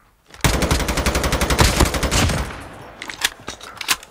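Rapid automatic gunfire from the Call of Duty Mobile video game, a dense sustained burst of shots followed by a few scattered single shots, loud and with no talking.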